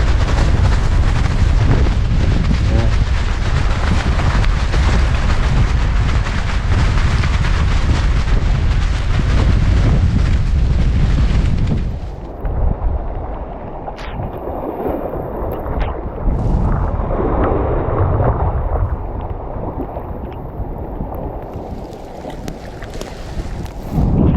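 Strong sea wind roars across a rocky shore in rain, blasting the microphone loudly and steadily for about half the time, then easing into softer gusts and surf-like rumble.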